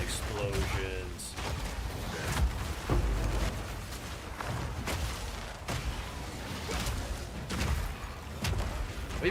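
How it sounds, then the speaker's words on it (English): Dense, continuous explosions and fiery blasts fill a Path of Exile 2 combat scene with a Titan Warrior slamming, booming repeatedly with sharp cracks, loud and unbroken, with speech mixed in. "Explosions."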